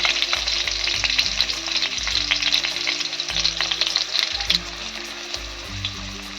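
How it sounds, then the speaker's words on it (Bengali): Oil sizzles loudly and steadily as onion and grated garlic fry close by, with occasional scraping from stirring; no one speaks. "পেঁয়াজটা তেলে দিয়ে দিয়েছি। পেঁয়াজটা ভেজে নেব।"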